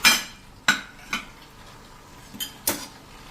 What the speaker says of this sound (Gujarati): હવે આપણે જે આ બટેટા લીધા છે 500 ગ્રામ, એ આપણે આમાં નાખી દેશું અને એને એકદમ સરસ આપણે મસાલા સાથે મિક્સ કરી લેશું.